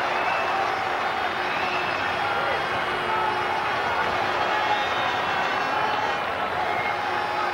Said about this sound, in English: And all of Wembley now applauding these two as they move into the final half minute.